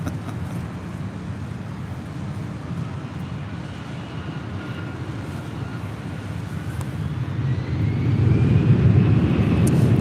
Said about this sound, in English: Avianca heading to Guatemala City, flight 641.